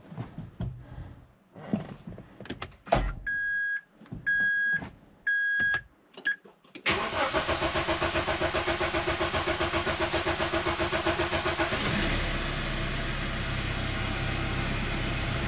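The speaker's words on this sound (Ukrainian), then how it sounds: "Зараз подивимось, як вона буде запускатися. Довго стояла машина." A JAC pickup truck engine, long unused and showing an engine fault, cranks in several short bursts with warning beeps between them, then catches and idles loudly and steadily, settling to a lower rumble.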